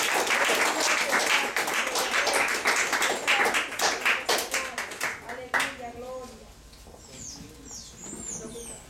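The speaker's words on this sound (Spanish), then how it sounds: "Pídele un fuerte aplauso a Jesús en esta mañana" Church congregation at a morning worship service giving loud sustained applause that thins into scattered claps and fades after a few seconds, leaving quieter room sound.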